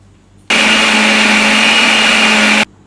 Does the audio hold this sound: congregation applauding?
no